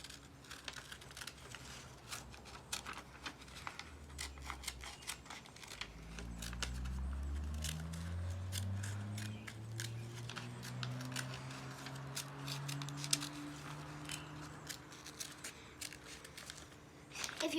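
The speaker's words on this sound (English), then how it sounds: "I'm trying to cut up and down on the petals and not cut off the petals" Scissors snipping paper flower petals for a handmade card, a long run of quick, close, irregular clicks and cuts with a low hum rising in the background midway.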